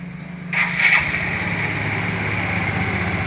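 A Suzuki Spin 125 scooter with a fully DC-modified electrical system cranks and catches, then settles into a steady, close idle with a buzzy mid-pitched drone.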